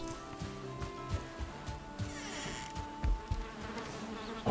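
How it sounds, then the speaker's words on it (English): Bees swarm around a bee nest in the survival game Valheim, a steady close insect buzz layered with soft rustling, light thumps and faint tonal game ambience. "Oh, bee nest."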